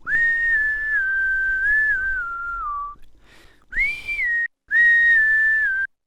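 Layered whistle samples for an electronic dance track: a sustained melodic whistled tone that slides down slightly, then two shorter whistled phrases after brief gaps, loud and close with no talk.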